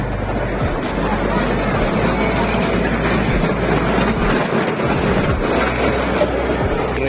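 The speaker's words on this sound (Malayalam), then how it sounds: "ഇതവിടുത്തെ ട്രെയിൻ പോയിരുന്നത്." A fairground ride train runs at the Puthiyangadi Nercha festival in Malappuram, Kerala, a loud steady rumble with faint clicks and a dense crowd hubbub all around.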